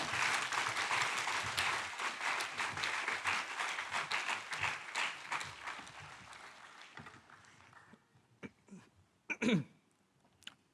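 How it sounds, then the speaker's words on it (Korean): Church congregation applauding during a Wednesday worship service, dense steady clapping that fades out after about seven seconds, followed by a few isolated claps and a cough. "하나님께 영광의 박수를 드리면서 축하하는, 맞이하는 것입니다."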